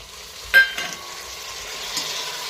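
Cauliflower pieces and peas are sautéed for pulao, with a sharp spoon scrape against the pan followed by a low, steady sizzle and a second softer stir, close and fairly quiet.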